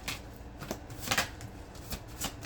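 Tarot cards are shuffled by hand, giving a string of soft, quick riffling and flicking bursts at close range with no talk.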